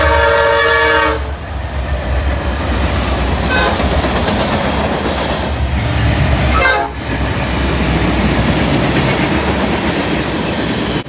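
Norfolk Southern SD70M-2 locomotives roll past with a loud, close horn blast at the start, then a heavy rumble of railcars and clatter continuing throughout, with a brief second horn note midway.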